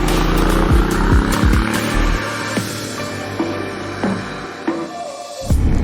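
A Honda X-ADV 750 parallel-twin engine runs close by in short revving bursts with mechanical clatter, loud and alone.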